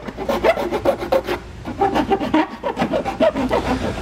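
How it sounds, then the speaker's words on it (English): A hand file rasps back and forth on cut metal edges to remove burrs, giving quick, rhythmic scraping strokes, close and fairly loud, with a short pause partway through. "I'm gonna go back with a flat blade of a knife and also maybe a file just to kind of get some of these burrs off"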